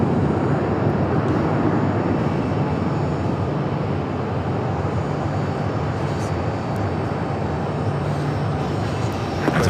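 An American Airlines Boeing 737-800 jet airliner, twelve years old, bound for JFK, produces a sustained, loud broadband jet roar at Phoenix that stays fairly steady throughout.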